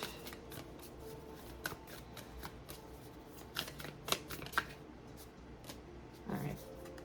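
Tarot cards shuffled by hand in a quiet room: soft rapid riffles and flicks with a few sharper slaps, while a voice talks quietly at times.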